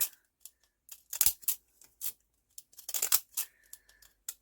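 Deckle edge scissors cut vellum in a series of crisp, close snips and crunches, irregular bursts with short pauses between them and no talking.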